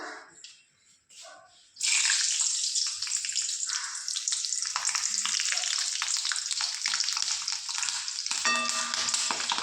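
Green chilies frying in hot oil for sabudana vada give a loud, dense, continuous sizzle and spatter that bursts in after a quieter opening and carries on steadily to the end.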